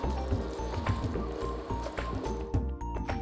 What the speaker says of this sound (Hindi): अब गुड़ को भी इसमें अच्छे से मिक्स कर लेते हैं